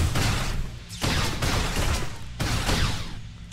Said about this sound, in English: I'm just shooting frantically